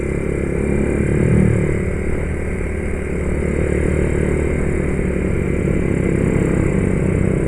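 A motorcycle engine idles and putters up close in a Bandung traffic jam during a crowded Persib championship celebration, with a steady low rumble, some clatter and brief throttle blips throughout.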